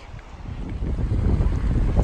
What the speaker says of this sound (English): it's too freezing cold and arctic windy down here